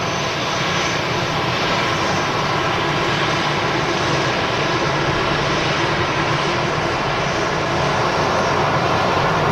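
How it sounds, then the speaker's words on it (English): A jet airliner lands at Manchester Airport, its engines giving a steady, loud, broadband roar that holds without pause throughout, with no talk over it. "that landing was more than okay"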